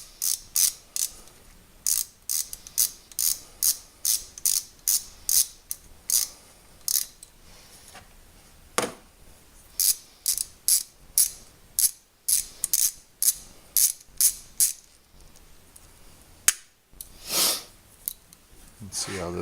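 A ratchet wrench works a 10mm bolt loose on a 2003 Honda Accord during power steering pump seal work, giving close, crisp bursts of rapid clicking repeated in steady strokes with brief pauses between them.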